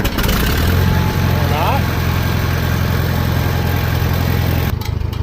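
A Farmall M tractor engine that had run out of gas cranks and fires, then runs with a loud, close, steady rumble, with some talk over it before a brief dip at the end.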